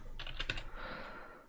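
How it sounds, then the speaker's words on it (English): A run of quick keystrokes on a computer keyboard as a password is entered, a handful of close clicks bunched together at the start and then tapering off into quiet room tone. "let's enter our password."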